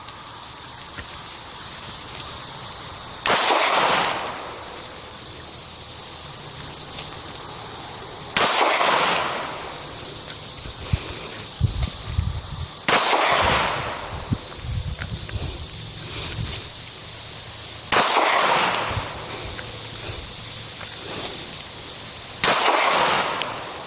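Pistol shots at an outdoor shooting range ring out as sharp single cracks spaced several seconds apart, with a steady high insect chirring filling the gaps between them.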